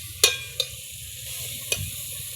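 Okra and masala frying in ghee, with a steady sizzle under three sharp, brief scraping clicks from stirring at uneven intervals.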